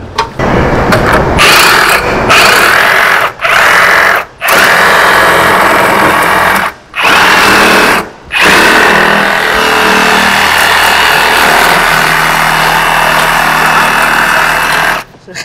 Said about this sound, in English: You got a Sawzall out for a wire?